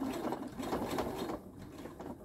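A sewing machine back stitches binding on a fabric oven mitt, a close, loud, fast mechanical whirring run that eases off partway through, with no voices.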